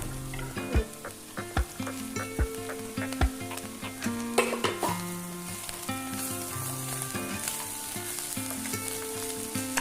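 Mussel filling with coriander leaves for Kannur kalmas sizzles and fries in a pan while a spoon stirs and scrapes it in rhythmic clanks, close and continuous, with no one talking.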